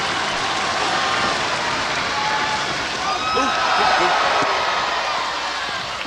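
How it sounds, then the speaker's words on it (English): A wrestling crowd at a WWA event cheers for Shark Boy during a match, a broad, steady roar of cheering and clapping with a slight swell midway and voices talking over it. "Crowd getting behind Shark Boy."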